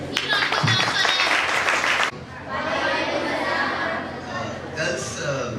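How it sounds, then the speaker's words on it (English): Audience applause at a high school motivational talk event, a burst of clapping and crowd chatter that cuts off abruptly, then a softer, more distant round of clapping continues with voices in the room. "Give a round of applause for them."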